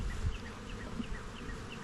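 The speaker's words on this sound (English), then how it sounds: "a few handful of bees" Honey bees buzzing inside a young nuc hive, a steady close drone of many wings humming continuously at low volume, with no voices over it.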